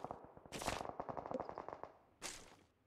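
Automatic gunfire in the mobile battle royale game PUBG Mobile, a loud rapid burst of shots followed by a lighter rattling string of rounds, then a second sharp burst near the end.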